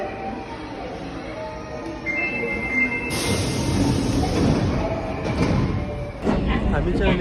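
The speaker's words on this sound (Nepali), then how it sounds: "हामी चाहिँ अहिले ट्रेनमा चढेका छौँ।" A passenger train runs on rails in Japan, between Osaka and Kobe, in a continuous rolling rumble heard from inside the carriage, with a brief metallic squeal, a door-like hiss midway and faint background voices.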